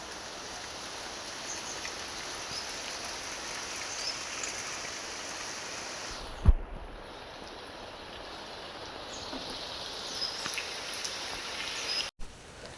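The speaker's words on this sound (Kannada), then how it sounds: "ನೋಡಿ ಈಗ ಮಳೆ ಬರ್ತಾ ಉಂಟು" Soft, steady hiss of rain falling, fairly faint and even, with a single thump partway through.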